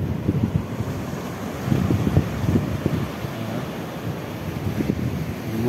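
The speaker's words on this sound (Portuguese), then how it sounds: "Olha o marzão." Ocean surf rolls and wind buffets the microphone on the Tramandaí fishing pier, a steady broadband wash with swelling wave surges, fairly loud and close, and no voices.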